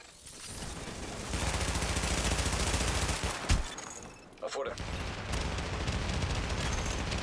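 Sustained automatic gunfire rattles continuously during an attack on a fortification in the video game The Division, with a short lull and sharp bursts near the middle, loud and dense throughout.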